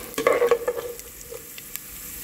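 White urad dal being stirred in a hot pan, with a burst of close scraping and sizzling at the start that settles into a soft, steady frying hiss with occasional faint clicks.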